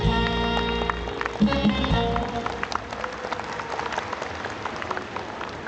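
Applause breaks out at a live Thai concert at Muang Thong Thani as the music trails off. It begins with instruments still sounding, then settles into steady clapping from a large audience.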